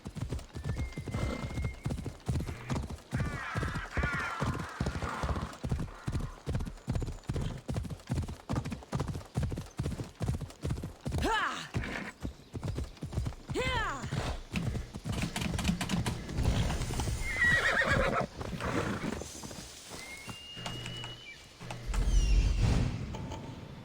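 A horse in Assassin's Creed Odyssey gallops in a fast, even rhythm of loud hoofbeats that slows and breaks up, with a neigh near the end and occasional talk over it.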